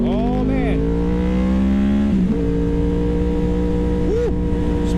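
A 2009 Yamaha R1 engine labouring below 4,000 rpm, running choppy and uneven: a close, buzzing harmonic drone that dips and shifts midway, then steadies with a short blip near the end.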